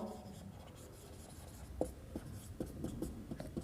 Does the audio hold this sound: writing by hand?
yes